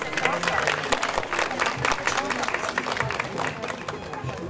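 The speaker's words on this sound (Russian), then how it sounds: "Под ваши аплодисменты." An audience at a poetry stage event claps as a poet is called up, a dense patter of applause mixed with crowd murmur, moderately loud and steady over several seconds.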